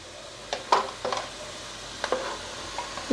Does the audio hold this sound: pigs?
no